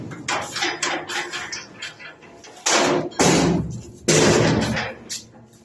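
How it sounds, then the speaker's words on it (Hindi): Big metal house gates being opened during morning cleaning at home, giving a run of clanks and rattles followed by three loud, close metallic bangs and scrapes, with no talking. "तो अब मैं ये बड़े गेट खोलने लग रही हूँ।"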